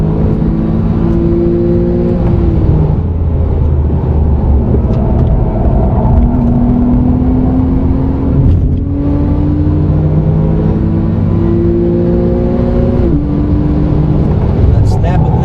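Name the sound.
Porsche 911 PDK accelerating at full throttle and upshifting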